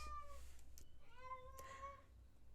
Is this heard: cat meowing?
yes